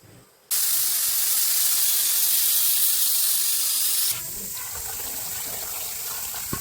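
Cassava (tapioca) being washed in water, a loud steady rush of running water that begins abruptly, then drops to a softer splashing wash with light sloshing toward the end.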